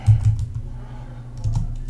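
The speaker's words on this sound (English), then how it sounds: "Typing is fun." Keys on a computer keyboard are tapped in two short bursts of quick clicks separated by a brief pause, close and clear with no talking.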